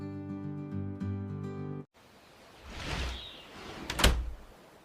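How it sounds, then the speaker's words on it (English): After a musical tone stops abruptly, a door is opened: a sliding, scraping movement swells up, then a sharp knock or latch clunk near the end, close and moderately loud. "I open the door."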